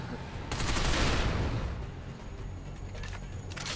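Rapid gunfire in the shooter video game Binary Domain, a dense cluster of sharp cracking shots with a loud burst early, then scattered shots and mechanical clatter, up close and loud.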